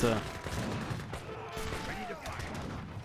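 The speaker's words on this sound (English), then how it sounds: "And now we see the 3 Gatlin guns came in and perfect spot here" Three Gatling guns rattle off rapid bursts in a real-time strategy battle in Age of Empires 3, a dense crackle of gunfire under continuous commentary.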